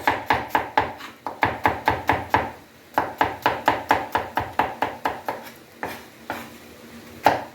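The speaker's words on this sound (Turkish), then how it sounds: "Şöyle ortadan bir çizik atıyoruz ve soğanımızı doğruyoruz." Brisk knife strokes on a cutting board slice a red onion into julienne strips, coming in quick rhythmic bursts of sharp close taps with short pauses between runs, no talking.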